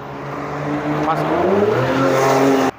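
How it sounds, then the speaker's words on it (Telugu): A 2016 Toyota Innova Crysta Z diesel engine cranks and catches, then its pitch rises as it revs before settling into a steady, close running tone. The sound cuts off abruptly. "ఒకసారి ఇంజన్ కూడా స్టార్ట్ చేసి మీకు చూపిస్తానండి"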